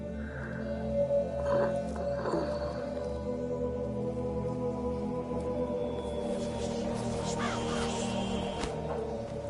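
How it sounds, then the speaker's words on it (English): A raven caws in The Witcher 3: Blood and Wine, a few harsh calls early on over steady in-game ambience and music, clear and fairly close. "What was that? A raven?"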